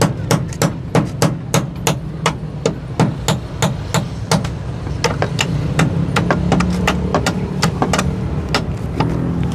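A hammer drives nails into a nipa hut, sharp metallic strikes landing close and loud in a steady series of blows, some rapid and clustered, over a low background hum.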